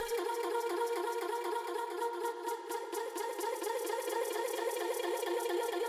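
A vocal processed with reverb and granular textures, grain size at maximum and flux at minimum, forms a dense shimmering wash of sustained pitched tones with a fine flickering grain, steady and continuous throughout, with no talking.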